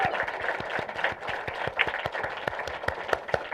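An audience gives a congratulatory round of applause on a live business call, a dense run of separate claps under a steady murmur, fairly close and holding at a steady level for several seconds.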